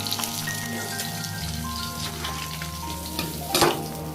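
Small fish fry in hot oil with a steady, close crackling sizzle that runs throughout, with a brief louder spatter near the end.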